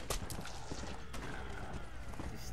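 In Red Dead Redemption: Undead Nightmare, a horse's hooves clip-clop in a quick, uneven rhythm, fairly faint under a wash of background game noise.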